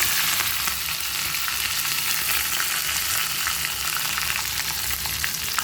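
Oil tempering with mustard seeds, dal and chilli seeds sizzles steadily, with green chillies added, a dense close hiss of frying throughout, no talk.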